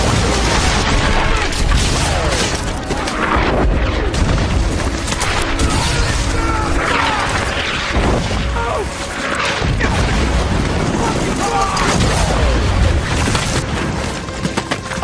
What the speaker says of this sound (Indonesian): unit mortar marinir yang berada jauh di belakang malah salah koordinat, menembaki kawan mereka sendiri